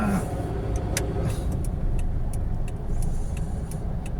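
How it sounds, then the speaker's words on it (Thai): A car turns back in a U-turn on a road heading into Chumphon town, its engine and tyre noise a steady, close, continuous rumble with a few faint higher ticks on top. "ยูเทิร์นกลับนะจะยูเทิร์นกลับตรงนี้ รถจะยูเทิร์นไป"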